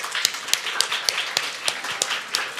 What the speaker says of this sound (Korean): 박수로 한번 맞아주십니다.